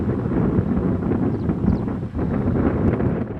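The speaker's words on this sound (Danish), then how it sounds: "Det blæser, og det er koldt." Steady wind buffets an open stretch of the Jutland coast on a cold, rainy day, a continuous low roar with brief gusts rising and falling, loud and close against the microphone.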